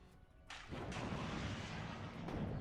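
A gunshot in the WARNO strategy video game lands as a single heavy, booming report that rolls into a sustained low rumble, fairly loud and alone without talk.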